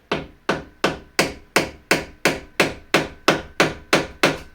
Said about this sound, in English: This is the exact size of the bearing, so I'll try to tap it in gently as I can.